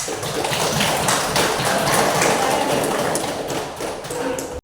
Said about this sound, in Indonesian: Kita berikan aplaus untuk Chelsea ya.